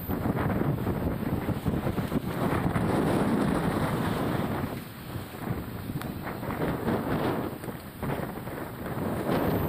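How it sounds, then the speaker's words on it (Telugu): A sudden strong wind gusts during a weather change, a loud, continuous roaring rush buffeting the microphone, dipping briefly midway before surging again. "ఒక్కసారి గాలి రావడం కానీ బీభత్సంగా, అది చాలా దారుణంగా ఉండింది"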